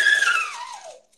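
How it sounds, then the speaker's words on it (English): A siren whistle on a child's breathing balloon device gives one short descending whoop, bright and close, fading out within about a second. "the siren whistle blows,"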